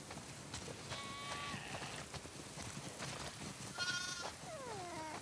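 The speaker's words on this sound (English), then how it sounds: "Wow, that's a lot of sheep." Sheep in The Last of Us Part II bleat on a farm, with a couple of wavering calls standing out over busy background footsteps and game ambience.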